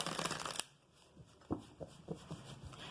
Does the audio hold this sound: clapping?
no